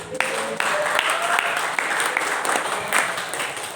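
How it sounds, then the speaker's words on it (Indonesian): Church congregation breaks into dense applause for the Sunday school team, a continuous roar of clapping with a few louder individual claps standing out and voices mixed underneath. "Tepuk tangan buat tim sekolah minggu."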